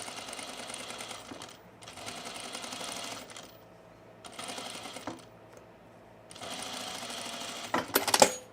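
A sewing machine stitches a lightweight sun-blocking top in four or five bursts separated by short pauses, close and moderately loud, ending with a brief clatter.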